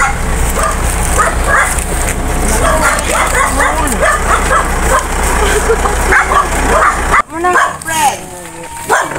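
Several dogs bark and yip in overlapping bursts on a farm, with a whimper or two, while people talk over them nearby.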